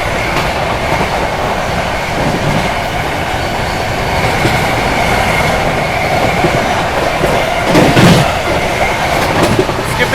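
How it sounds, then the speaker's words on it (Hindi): The 12392 Delhi–Rajgir Shramjeevi Express rolls through Gajraula Junction without stopping, heard from on board. A loud, continuous rumble of wheels and carriages carries a faint clatter throughout, with no talking. "ट्रेन अपनी स्किप करने जा रही है गजरौला जंक्शन"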